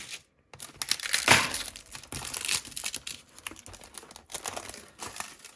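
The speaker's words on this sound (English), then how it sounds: "I was trying to avoid the crinkling" Crinkling and rustling of plastic packaging peeled off a layer of craft supplies, a loud crackling burst early on followed by steady intermittent crinkles close up, with no talking.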